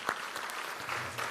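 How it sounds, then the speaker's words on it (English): A school district audience claps together in a lively, continuous round of applause, with a few sharper individual claps poking out near the start and end. "Let's give them a well-deserved round of applause again."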